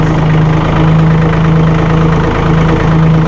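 A Massey Ferguson 1825E hydrostatic compact tractor with a 24 hp engine idles loud and close, a steady low mechanical drone with a constant hum throughout and no talking.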